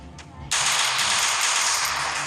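Rapid automatic gunfire in the Free Fire Clash Squad video game, loud and continuous after a brief lead-in, with no talk.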